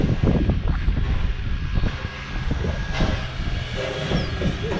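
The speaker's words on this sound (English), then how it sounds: "Isn't that a beautiful train," Mary Valley Rattler heritage train passing nearby, a loud rumbling roll of wheels and carriages with hissing and clanking, steady throughout.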